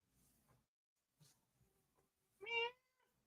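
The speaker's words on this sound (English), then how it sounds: "The cat has arrived, everybody." A pet cat gives a single clear, loud meow near the end, after faint indoor rustling and quiet handling sounds.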